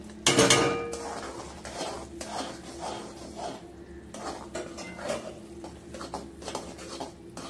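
Puffed amaranth (rajgira) is stirred briskly in a pan with peanuts for chikki. A sharp metallic clatter opens, followed by repeated scraping and rustling strokes of the spoon against the pan.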